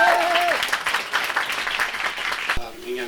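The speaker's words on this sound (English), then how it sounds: "I think we can give some proper applause for that." Audience applause at a tenth-birthday celebration event, a steady wash of clapping running under speech, with a voice present at the start and again near the end.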